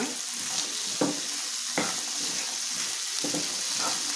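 Mixed vegetables and peas frying in a pan, a steady sizzle and hiss throughout with a few soft stirring knocks at irregular intervals; no voices.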